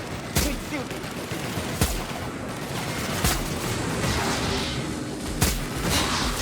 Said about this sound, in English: if we shoot things from over here